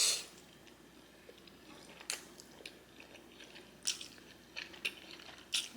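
Close, quiet biting and chewing of shrimp with garlic noodles, a few sharp crisp bites scattered between soft moist mastication sounds, heard alone without talking.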